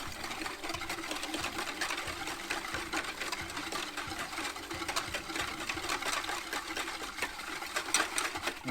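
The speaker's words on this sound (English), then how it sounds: "I'm going to whisk that up." A whisk beats pork butt brine in a bowl with a rapid, steady, continuous scraping and rattling that runs evenly throughout without pause.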